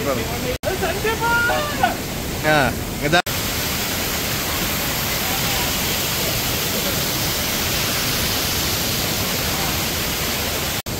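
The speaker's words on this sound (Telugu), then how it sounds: "वो टनल से पानी जा रहा है" Seti river water rushing through a hydropower tunnel in Pokhara, a loud constant roar of water, with voices briefly talking over it at the start.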